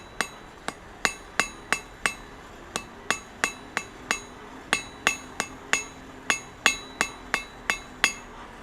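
A blacksmith draws out a taper on small steel stock, striking it with a hammer about twenty times in a steady, ringing rhythm. Each blow lands sharp and close with a bright metallic ring, and no one speaks.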